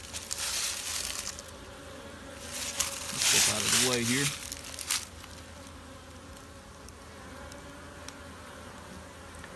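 Honey bees swarm around a busy hive entrance in early spring, a continuous buzzing hum with a nearer bee passing loudly midway, while a person talks briefly over it.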